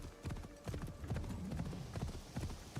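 Horse hooves clip-clop at a steady walking pace in the video game Assassin's Creed Shadows. The hoofbeats are fairly faint over a soft ambient background.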